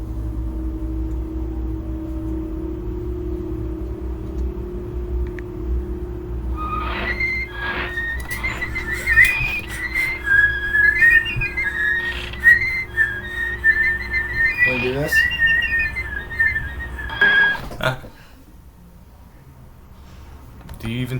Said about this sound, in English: Play this 1928 clip of Steamboat Willie and do the same whistle